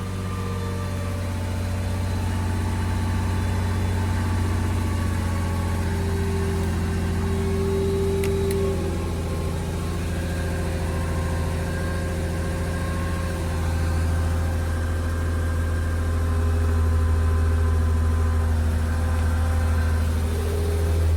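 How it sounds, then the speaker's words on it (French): A modified BMW M3 engine idles close by, giving off a loud, deep and steady rumble with a slight lope that holds without a break. "Je suis choqué du ralenti, frère."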